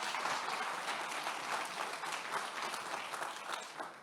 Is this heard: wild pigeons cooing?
no